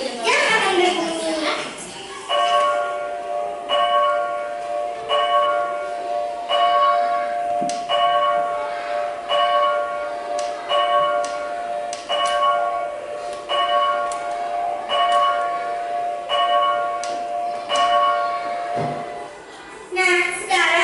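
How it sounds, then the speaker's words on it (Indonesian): A clock chimes at twelve noon with about a dozen evenly spaced ringing strikes, clear and fairly close, while a voice speaks over the chimes. "Sabar ya Pus, pasti sebentar lagi jam akan berbunyi."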